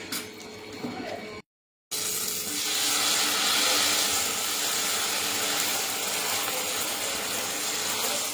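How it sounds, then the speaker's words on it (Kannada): Battered cauliflower gobi deep-frying in hot oil over a low flame, a steady close sizzle and crackle that starts after a brief pause and runs loud and continuous. "ಈಗ ಎಣ್ಣೆ ಕಾದೈತಿ. ನಾವು ಲೋ ಫ್ಲೇಮ್ನಾಗ ಇಟ್ಟು ಇದನ್ನ ಕರಿಬೇಕ್ರಿ."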